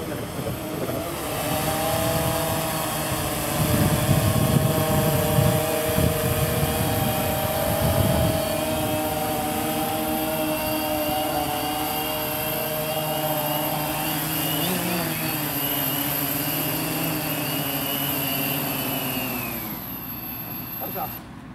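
A Cheerson CX20 quadcopter drone on 9443 or 9450 propellers flies with a sustained buzzing whine whose pitch rises and falls as it speeds up and slows, while people talk over it.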